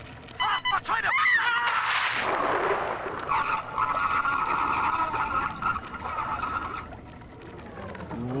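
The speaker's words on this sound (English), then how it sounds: "Lamb hit them with a torpedo" A torpedo explosion in the underwater world of Bioshock 2, a broad roaring blast that swells loud and then holds as a long rumbling, ringing wash lasting several seconds, with faint speech in the background.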